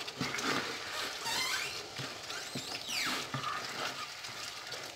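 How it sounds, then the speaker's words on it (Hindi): Boiled tomatoes sautéing in a pan at moderate sizzle, with repeated clinks and scrapes of stirring and a utensil knocking the pan. "इस टमाटरों में अब उबाल आ गया है तो हम थोड़ा इसको सॉटे कर लेते हैं इसे"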